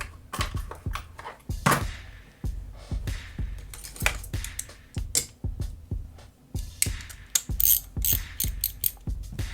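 A ratchet wrench with a 10 mm socket worked on the clutch of a Reds Racing 721 Scuderia model engine, producing close, crisp clicking bursts in repeated short strokes with brief pauses between them.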